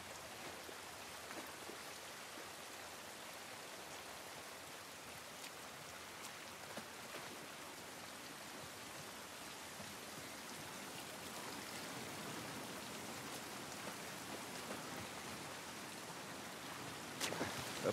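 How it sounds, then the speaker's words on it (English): Steady rain pours down in The Last of Us Part I, a continuous, even hiss with no voices, holding at a constant level throughout. "This rain ain't gonna do us any good."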